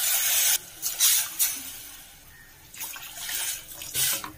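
Water poured from a cup into a cooking pot while making almond soup, in several splashing pours separated by short pauses, close and fairly loud with no talking.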